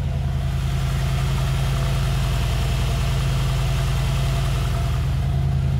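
A 2020 Mercedes G63 AMG with its V8 engine idling, a steady, deep, even rumble from the exhaust that holds constant throughout with no voices.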